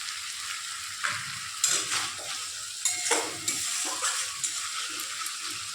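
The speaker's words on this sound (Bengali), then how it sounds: "দেখো মশলাটা কষাতে কষাতে তেলটা অনেকটা বেরিয়ে গেছে, তেল ছেড়ে দিয়েছে।" Spice masala for a vegetarian chana masala stirs and fries in oil that has begun to separate, giving a steady close sizzle broken by a few louder scraping stirs at a regular pace, with no voices.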